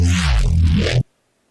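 Resampled Reese bass synth made in FL Studio, a thick, washy, wet-sounding detuned growl played loud and alone for about a second before cutting off abruptly into silence.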